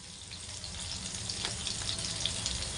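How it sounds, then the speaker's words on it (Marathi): Chopped onion dropped into hot oil with cumin seeds, giving a soft, steady frying hiss with faint crackles, fairly quiet and close, no voices over it. "नंतर आपला हा कांदा जो आहे ते खाली घेऊ आपण तेलामध्ये"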